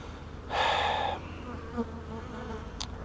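Honey bees buzz around an open brood box during a hive inspection, with a louder close swell of droning wings for about a second over a fainter steady hum.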